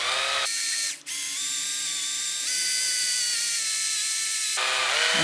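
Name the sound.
drilling through elder wood for a pipe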